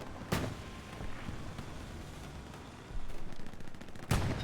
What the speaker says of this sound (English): Tank now already starting to fire into the point.